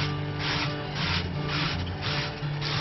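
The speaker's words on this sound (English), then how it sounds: "Just gonna rub some oil on here." Oil is rubbed onto squid before barbecuing, a soft steady swishing and rubbing in rhythmic strokes, close up and fairly loud, with no talking.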